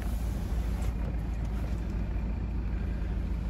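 A BMW F36 4 Series Gran Coupe's engine idles steadily, a continuous low rumble that stays even and close throughout with no one talking.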